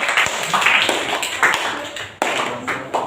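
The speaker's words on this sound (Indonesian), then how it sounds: "Tepuk tangan untuk Kamil." A classroom of students clapping for their classmate Kamil, a brisk burst of many hands close by with sharp individual claps, briefly dipping and then resuming.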